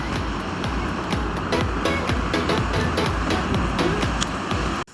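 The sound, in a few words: ocean waves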